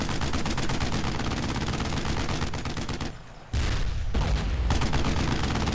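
Heavy, continuous gunfire in the WWII shooter Brothers in Arms: Road to Hill 30, loud overlapping rifle and machine gun bursts with a brief lull in the middle before the firing resumes.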